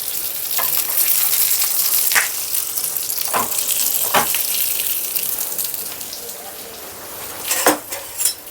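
Frozen baida roti fries in hot oil with a loud, continuous crackling sizzle, punctuated by a few sharp utensil clinks near the end.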